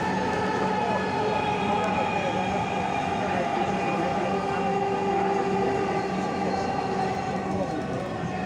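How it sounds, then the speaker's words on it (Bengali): Riding inside a metro rail train, with a steady, loud rumble and hum of the carriage running at speed. Faint tonal whines from the motors sit over the noise, which carries on without a break. "ফাইনালি উঠে পড়লাম মেট্রো রেলে।"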